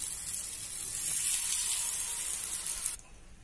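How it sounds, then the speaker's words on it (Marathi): Steady hissing sizzle as spoonfuls of sweet corn appe batter go into a hot, oiled appe pan, loud and continuous, then dropping off abruptly near the end. "आता एक एक चमचा त्यात आप्याचं मटेरियल घालूया"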